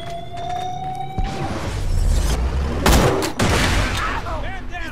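Gunfire and an alarm in the shooter video game Borderlands: The Pre-Sequel aboard a ship, with a sustained alarm tone at first, then loud bursts of shots and booms layered over continuous rumbling game noise.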